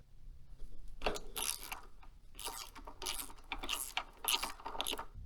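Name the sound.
adjusting the kickstand length on a Stark Varg Gen 2 motorcycle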